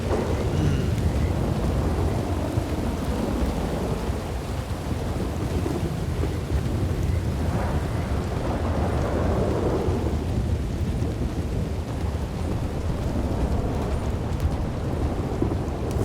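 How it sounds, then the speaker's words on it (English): Heavy in-game rain pours steadily in a thunderstorm, with deep rolling thunder rumbling through the whole stretch and wind gusting over it, loud and continuous with no talking. "The rain. We have rain all the time, but this is not like this."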